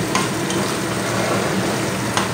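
Paneer curry with green chillies sautéing in a pan, a loud continuous sizzle with a couple of brief stirring scrapes and no voices.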